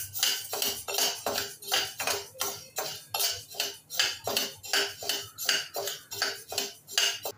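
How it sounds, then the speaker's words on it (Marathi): Moong dal is dry-roasted in a pan for chakli flour, and a spatula stirs it in a quick, steady rhythm. Bright metallic scrapes and clinks repeat about twice a second, close and alone. "आता आपण मूग डाळ सुद्धा कलर चेंज होईपर्यंत भाजून घेऊया।"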